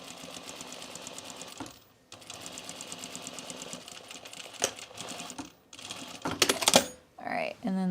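A sewing machine stitching a dress seam runs in fast, steady bursts of rapid needle clatter, pausing briefly between runs, close and clear, with a few handling knocks at the end.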